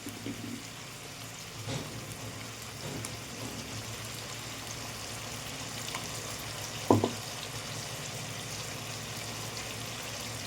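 Ginger, onion and garlic paste goes into a pan of frying chicken, potato and onion, giving a steady moderate sizzle throughout with one sharp brief clatter near the middle.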